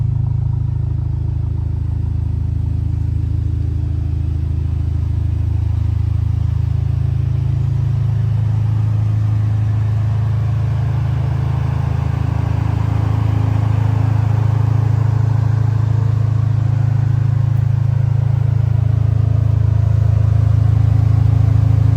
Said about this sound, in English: Exhaust, nice little rumble back there. Turbocharged 2-liter 4-cylinder engine.